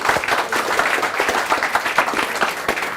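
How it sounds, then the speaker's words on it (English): An audience at a sales mastermind event bursts into dense, continuous clapping that stays loud and even for about three seconds. "Give her a round of applause for that"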